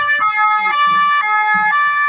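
A loud two-tone UK police siren alternating steadily between high and low pitches about every half second, close and continuous with no other sounds.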